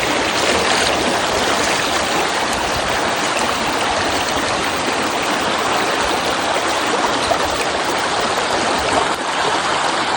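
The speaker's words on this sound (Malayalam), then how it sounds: "നല്ല രസമുണ്ട് ഞങ്ങളെ പുഴ" A river flows steadily during a summer fishing outing, its loud, continuous rushing water filling the whole stretch without pause.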